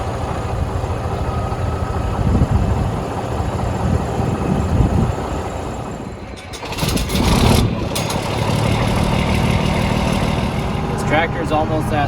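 A diesel tractor engine with nearly 17,000 hours rumbles steadily at close range, dipping briefly before picking back up, with a person talking over the running motor.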